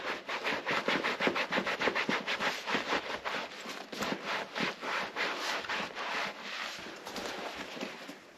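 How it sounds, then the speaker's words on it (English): A brush scrubs the large panels of motorcycle leathers being cleaned, giving steady, rhythmic back-and-forth rasping strokes, close and fairly loud, with no talk. "And then we can just give it a light scrubbing, because it's easy to oversaturate the big panels."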